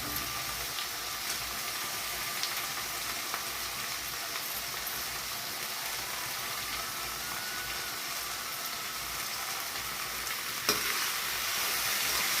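Potato pieces fry in a pan with a dense, continuous hissing sizzle, and a single clack near the end as they are stirred.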